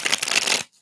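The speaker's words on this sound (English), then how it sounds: "Shuffle these up." A deck of tarot cards shuffled for a reading, a short, close riffling rustle lasting under a second before stopping abruptly.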